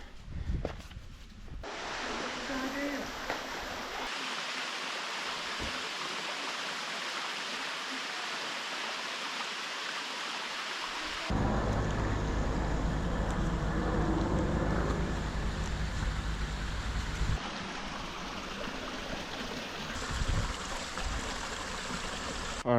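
A creek flows near a waterfall, a steady watery rush that grows louder and fuller midway through, then eases, with no talking throughout.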